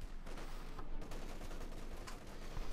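Dense, continuous rifle and small-arms fire from a Company of Heroes 2 match, OKW against USF, a steady crackling barrage with overlapping shots and no clear gaps throughout.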